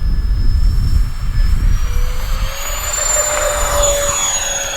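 An aircraft engine roars loudly during a takeoff with takeoff flaps set, a dense rumble with a rising whine that climbs steadily in pitch, with no voices.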